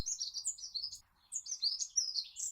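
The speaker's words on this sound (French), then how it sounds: "Seul le bruit des oiseaux couvre celui de vos pas." Birds chirp and tweet in a quiet forest, with bright, rapid calls in two bursts split by a brief pause. No voices.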